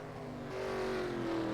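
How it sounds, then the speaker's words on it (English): Race car engine running in a NASCAR-style racing video game, a steady droning tone that rises slightly in pitch partway through, heard alone at moderate level. "I'm gonna keep listening to his engine to make sure he still has enough to at least make it to pit road"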